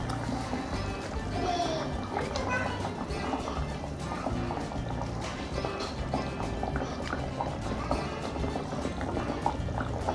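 Turmeric-yellow cooking liquid for barracuda boiling in a pot, a steady low bubbling and gurgling that runs unbroken throughout, with faint kitchen sounds on top.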